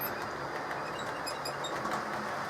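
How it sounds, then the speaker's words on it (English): A model train rolls over freshly oiled track, producing a smooth, continuous low rumble with faint, soft rhythmic clicks, fairly quiet and steady for a few seconds. "now run the train over it"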